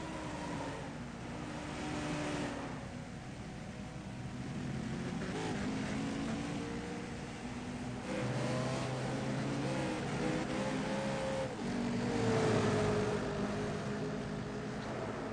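A NASCAR Chevrolet Impala race car rolling down the long pit road at Indianapolis Motor Speedway, its engine droning at steady limited speed, with a deeper rising engine note joining partway through.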